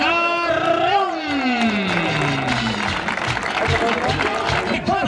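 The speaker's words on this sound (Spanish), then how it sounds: "Fuerte, fuerte aplauso." Crowd applause and cheering fill a stadium at the Pericos de Puebla 2016 baseball team presentation, carrying steadily beneath a loud amplified announcer's voice.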